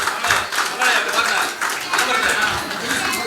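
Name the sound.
audience clapping at school reunion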